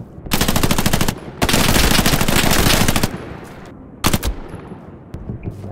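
Heavy automatic gunfire in the World War II shooter Hell Let Loose during a street battle in Carentan: two long, loud, rapid bursts, then sharper scattered shots and a distant rattle trailing off.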